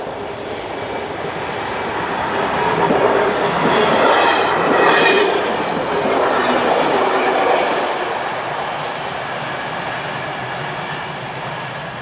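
A CFL Cargo freight train, locomotive 4011 hauling a long set of wagons, rolls past on the line near Essingen with a steady rumbling roar and faint wheel squeal, swelling as it draws closest mid-pass and then easing off.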